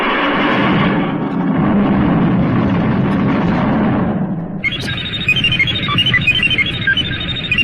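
Recorded rocket ignition and lift-off, a broad roaring blast that swells for several seconds before giving way to a different crackling, whistling texture, played back from an Expo 67 sound recording.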